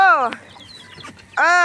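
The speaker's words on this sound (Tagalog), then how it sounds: "Nasalubong na ako ng aking mga manok." Farm chickens clucking close by as they come to greet their owner, two short bursts of harmonic clucks separated by a quiet pause with faint rustling.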